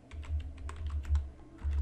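Brief run of keystrokes on a computer keyboard, quick light clicks in an uneven rhythm, close and fairly quiet, with a low hum underneath and no talking.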